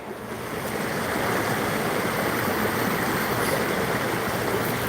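A creek flows steadily with a continuous broadband rush of water that swells slightly in the first second, then holds loud and even throughout, with no voices.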